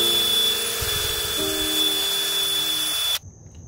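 A drill spinning a wire brush scours the thermostat housing of a 1998 Jeep Grand Cherokee ZJ 4.0, giving a steady close whine with scraping that shifts pitch midway, then cuts off abruptly near the end.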